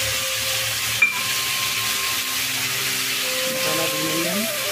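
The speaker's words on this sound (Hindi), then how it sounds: "मसाला भूनेंगे।" Masala spices roast in a pan with a steady, close hiss and sizzle, a faint tonal hum running underneath and one small knock early on.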